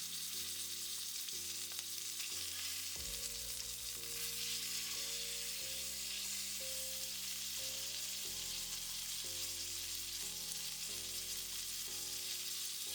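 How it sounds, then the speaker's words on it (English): Ribeye steak searing in a pan with butter, thyme and garlic, a steady close sizzle and crackle running throughout under faint tonal background music, no talking. "we're just going to tilt the steak up and make sure we get a nice sear on that cap"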